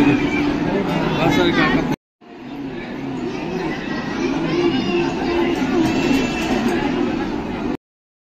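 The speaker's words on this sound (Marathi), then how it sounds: "खूप गर्दी आहे इकडे महाप्रसादाला." A large crowd gathers for the mahaprasad meal at Shegaon, a dense, close hubbub of many voices with a person talking over it and a brief break in the middle.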